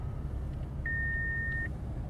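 A 2017 Infiniti Q60 Red Sport 400 coupe gives a single steady warning beep, just under a second long, over a low cabin rumble in stop-and-go traffic.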